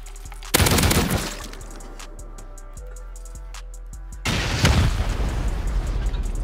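Rocket explosions during a base raid in a survival game: two loud broadband blasts, each followed by a rumbling decay, with a quieter stretch of sharp impacts between them.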